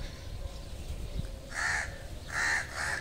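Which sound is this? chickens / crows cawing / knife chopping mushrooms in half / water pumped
crows cawing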